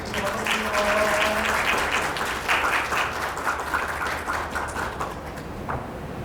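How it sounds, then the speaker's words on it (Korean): An audience applauds at a youth council mock session in a district council chamber, steady clapping filling the room throughout, with faint voices underneath. "이번엔 2층을 향해서 박수 부탁드리겠습니다"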